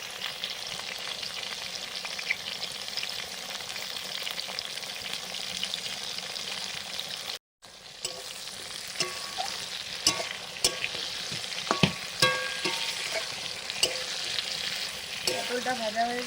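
Taro (kochu) pieces fry in a pan with salt and turmeric, a quiet continuous sizzle broken by scraping and clinking stir strokes, with a brief drop to silence partway through.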